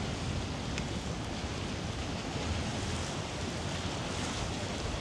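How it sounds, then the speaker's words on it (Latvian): Rough sea surf roars continuously in Georgia, a dense wash of crashing water mixed with gusty wind noise buffeting the microphone. "Jūra pamatīgi bango."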